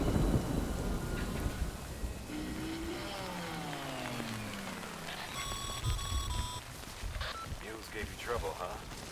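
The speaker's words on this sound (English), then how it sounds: "哦，下雨了。" Rain and rumbling thunder in the video game Death Stranding play under a steady wash of rainfall, with game music tones and a voice speaking over the storm.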